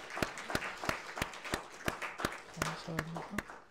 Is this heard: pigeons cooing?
no